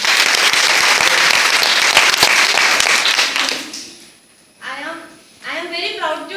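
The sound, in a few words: applause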